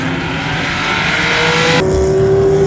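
Sports race cars roar past on a road course at Put-in-Bay, a loud continuous engine drone near the listener, with a sharp change in pitch partway through as one car passes and another holds a steady high tone.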